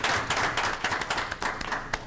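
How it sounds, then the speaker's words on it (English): Scattered clapping at a school board meeting, a handful of hands striking in loose, uneven bursts, fairly soft and brief in a meeting room. "Big round of applause"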